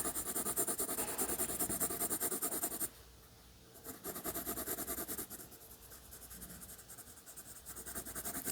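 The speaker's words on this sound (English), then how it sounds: "And I'm coloring in the entire thing." Pencil coloring in a potato drawing on paper, close rapid scratchy back-and-forth strokes in a steady rhythm, pausing briefly and then resuming with continued rubbing shading.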